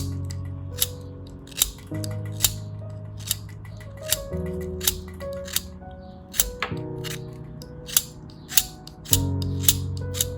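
A blade carves the wood of an artist's pencil in sharp, crisp scraping clicks, repeated roughly once a second and close by, over soft sustained background music.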